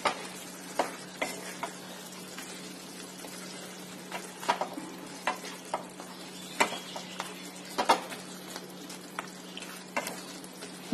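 Fish head and bottle gourd curry being stirred in a pan, with a soft steady sizzle and scattered light scraping taps at an uneven rhythm, fairly quiet and close, no talking.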